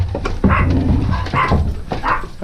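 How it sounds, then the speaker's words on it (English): A dog barks in a quick series of sharp, close yips and woofs, several rapid bursts in a row in a quiet indoor space. "This dog likes to bite."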